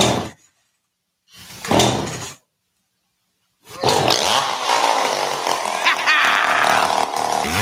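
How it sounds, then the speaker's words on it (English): A chainsaw sound effect in a radio ad for a chainsaw shop: two short roaring bursts separated by silence, then a loud, sustained, snarling engine rev that runs on steadily to the end. "Use a chainsaw by Burl for all your ball stuffing needs"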